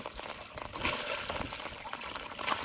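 Heavy rain pours down during a nor'wester storm on a river, a dense, continuous wash of close patter and splashing with no let-up.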